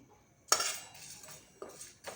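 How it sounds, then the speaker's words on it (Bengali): A spoon clinks and scrapes against a frying pan while fennel seeds, panch phoron and a halved dried red chilli are stirred as they dry-roast, producing a few sharp metallic knocks and short scrapes with quiet pauses between. "এটা আমি ভালো করে নেড়ে নেব ভাজা ভাজা হয়ে গেছে"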